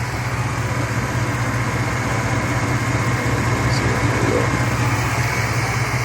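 A 1997 Chevrolet C1500 pickup's 5.0 liter Vortec V8 idles steadily, a continuous low rumble with a constant hum, close and even throughout with no talking.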